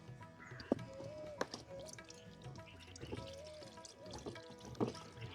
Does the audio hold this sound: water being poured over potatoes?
yes